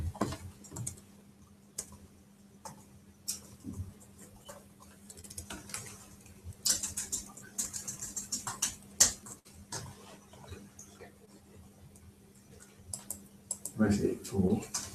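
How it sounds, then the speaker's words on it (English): A computer keyboard clatters in scattered bursts of quick key presses with pauses between them, while a voice talks in the background and a low steady hum runs underneath. "Takes a bit of getting used to the keyboard."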